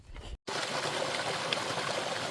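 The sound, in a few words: brook water flowing on the Appalachian Trail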